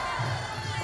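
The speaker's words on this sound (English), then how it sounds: "the hometown crowd of Thailand, cheering every strike that Thailand lands" A hometown Thai crowd cheers at a Muay Thai bout, a brief, steady roar of many voices heard from within the arena.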